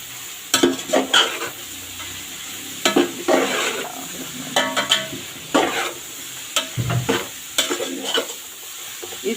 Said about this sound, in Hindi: इसको हम इस टाइम पे ऐड कर देंगे। मिक्स करेंगे अच्छे से।